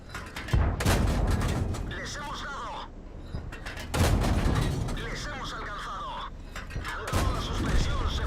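Tank gun of a T14 in World of Tanks firing premium shells, three heavy booming blasts spaced a few seconds apart, each followed by mechanical reload clatter and battle rumble, with talk over the action.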